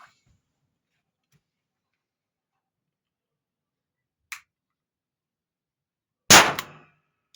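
A CCI 250 large rifle primer from the older red box fires alone in quiet, one sharp loud crack with a short ringing tail, preceded by a faint small click.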